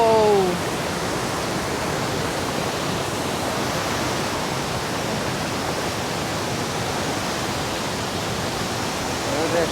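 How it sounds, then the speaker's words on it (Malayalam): Hogenakkal waterfall roaring as a steady, loud broadband rush of falling water, continuous and close throughout, with a brief voice at the very start and end. "എന്താ വെള്ളച്ചാട്ടം"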